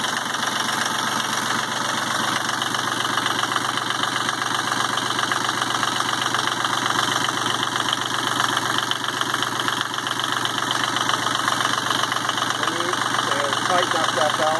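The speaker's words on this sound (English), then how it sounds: "I was able to get a hose hooked up so I can let the motor run for probably" Yanmar 30 hp marine diesel engine running after a cold start with a hose hooked up, a steady, loud knocking idle with rapid rhythmic clatter, and a voice talking over it.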